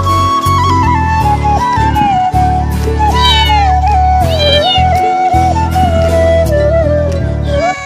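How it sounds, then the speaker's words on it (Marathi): A hungry white house cat meows a few times, its rising and falling cries sitting over loud, continuous music. "म्याव म्याव करत आहे। हिला भूक लागलेली आहे"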